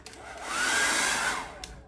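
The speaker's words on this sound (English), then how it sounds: "Normal hairdryer." A hair dryer blows with a steady airy roar that swells louder in the middle and fades as it moves away, no voices present.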